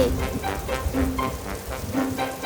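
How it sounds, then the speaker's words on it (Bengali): Rain falls steadily in an animated story scene, a soft continuous patter with faint tonal background sounds mixed in. "বৃষ্টি পড়ছে"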